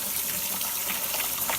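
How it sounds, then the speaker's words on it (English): Hot water gushes steadily from a tap over a toy LJN WWF wrestling ring being rinsed clean, a brief, close, continuous splashing rush. "Take my water, it's hot water. Just going to run it back over everything again."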